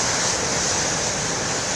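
Large ocean waves breaking on the shore make a continuous loud roaring wash of surf, steady and broad with no voices.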